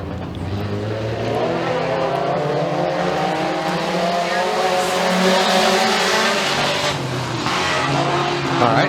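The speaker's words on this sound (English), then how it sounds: "First mini stock heat race underway." Mini stock race cars roar around the track at Freedom Motorsports Park in a heat race. A steady, loud blend of engines drones throughout, with rising and falling revs and a light voice underneath.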